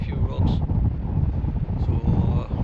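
Strong wind buffets the open air at Druridge Bay beach in Northumberland beside the rocks, a loud, steady low roar of gusting across the microphone throughout, with no clear voices.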